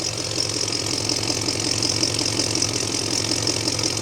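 Rescued Studebaker engine idling just after its first successful start, a steady, even mechanical rumble with a regular pulsing beat, running alone at moderate loudness.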